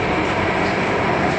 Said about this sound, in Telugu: చాలా స్పీడ్ వెళ్తుంది ట్రైన్.